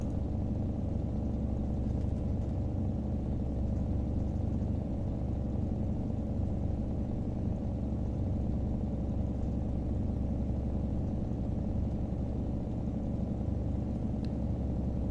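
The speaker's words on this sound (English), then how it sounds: "definite diesel thrum sound is very familiar to me" Steady diesel thrum from a 1986 Ford F350 with an indirect-injection diesel engine in American Truck Simulator, a continuous low rumble holding at an even level throughout with no talking.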